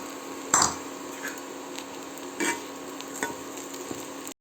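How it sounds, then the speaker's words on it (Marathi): Soybean chunks hit a pan and are stirred, with a sharp clatter at first followed by softer occasional scrapes and light sizzling against a quiet background hum, no voices. "आता यामध्ये आपण सोयाबीन टाकूया."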